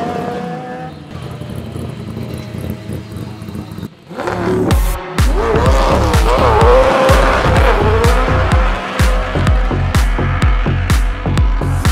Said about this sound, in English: so I'll see how far I can spin the wheels.